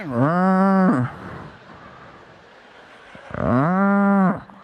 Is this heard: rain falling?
no